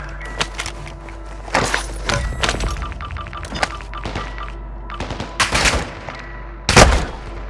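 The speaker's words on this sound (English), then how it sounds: "You are taking effective fire." Gunfire in the video game Call of Duty: Modern Warfare II: sharp, scattered shots and short bursts crack out at irregular intervals over a low, steady background rumble, with one especially loud blast near the end.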